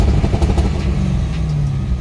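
A C5 Corvette engine revs hard on an MSD 8733 two-step limiter and holds at a fixed pitch above 3,000 RPM, with rapid popping and crackling bursts as the limiter cuts in, loud and close.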